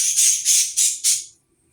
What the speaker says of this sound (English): I'm looking at my birds because they're fighting with each other.